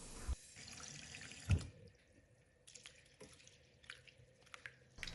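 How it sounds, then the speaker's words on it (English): Millets being washed under a running kitchen tap, water splashing steadily into a sink with some dripping and brief louder splashes, close and moderately quiet with no talking. "Now we are going to wash the millets."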